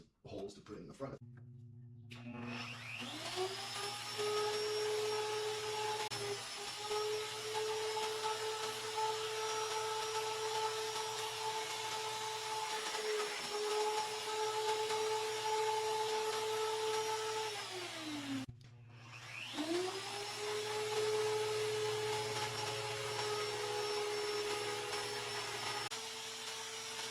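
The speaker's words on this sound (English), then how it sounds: "I got to drill a couple of holes to put in the front of it." A power drill boring holes into lawn equipment whines up to a steady high pitch, runs for about fifteen seconds, stops briefly, then spins up again; a low hum sits underneath throughout.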